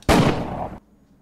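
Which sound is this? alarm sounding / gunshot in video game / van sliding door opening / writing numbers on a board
gunshot in video game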